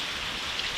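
Rain falls outside during a storm, a brief, steady patter and hiss of drops on surfaces at moderate loudness.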